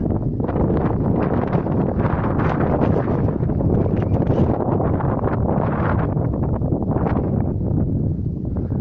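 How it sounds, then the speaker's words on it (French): Strong wind gusts across an outdoor garden plot, a constant rough buffeting rush against the microphone that swells and eases throughout, with no speech. "Il y a du vent"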